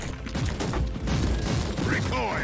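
Rapid bursts of gunfire in the Warhammer 40,000: Inquisitor - Martyr video game, fighting rebels in The Doomed City, repeating over a dense rumbling backdrop of battle noise with brief whooshing effects near the end.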